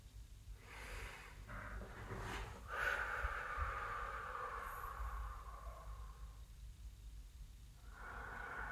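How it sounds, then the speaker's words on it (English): Slow, deep breaths drawn in and let out through the nose and mouth during a guided connection exercise, a few long airy inhales and exhales with soft snorting edges, close and fairly quiet, with no talking. "take a couple nice deep breaths with me"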